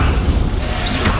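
A Confringo fire spell blast in Hogwarts Legacy on hard mode: a short, loud, booming burst with a whooshing edge, heard alone.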